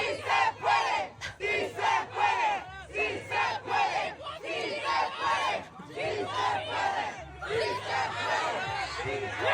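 A large crowd of protesters against deportations chants and shouts together in a loud, continuous roar, with rhythmic voiced surges and overlapping cries close by throughout.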